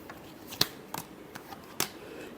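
Tarot cards shuffled in quick, crisp snaps and riffles, four or five sharp card flicks spaced about half a second apart, close and fairly quiet.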